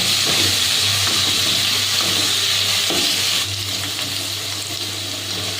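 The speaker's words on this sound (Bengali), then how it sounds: "গ্যাসটা বাড়িয়ে আমি ভালো করে আলুটা ভেজে নেব।" Potatoes with a little turmeric and salt frying in a pan over raised gas heat, giving a loud continuous sizzle with stirring scrapes, steady throughout and easing slightly partway through.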